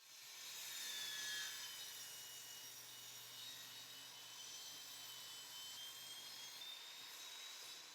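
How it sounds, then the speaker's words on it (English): A table saw trims a damaged section off a piece of reclaimed cedar, a continuous high whining cut with faint pitch shifts as the blade works through the wood, steady and close for several seconds. "I'm starting by trimming this piece on the table, saw to remove the damaged section."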